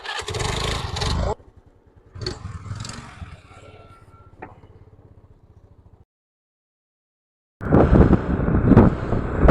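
A scooter: loud engine noise opens briefly, then quieter mechanical rattling and clicks before a pause, after which the engine roars back to life loudly.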